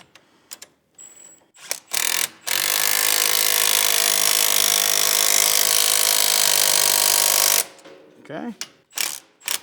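An impact wrench runs for about five seconds in one loud, steady burst while bolts are tightened on a Gen 3 CFMOTO CForce 1000 ATV fitted with 32-inch tires, with short clanks and clicks before and after.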